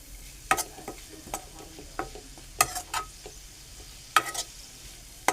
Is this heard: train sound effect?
no